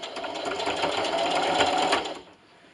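Sewing machine stitching a carrot-shaped Easter treat bag at a 2.5 stitch length, running steadily and close for about two seconds before stopping.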